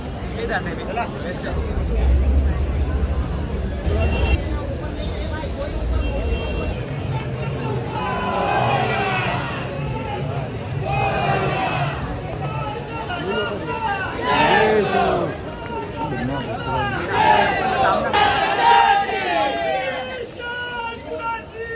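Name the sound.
crowd at Ganpati arrival procession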